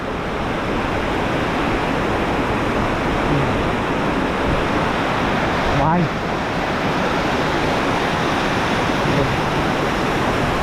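Kynrem Falls waterfall in Meghalaya, a loud unbroken roar of rushing water filling the whole stretch, with a man's brief spoken word partway through.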